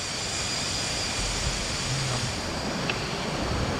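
Kroeng Krawia waterfall deep in the forest, a steady, moderately faint rush of falling water with a brief soft background sound partway through, no talking.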